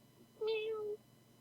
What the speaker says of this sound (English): We got the appearance of Lana the cat in the background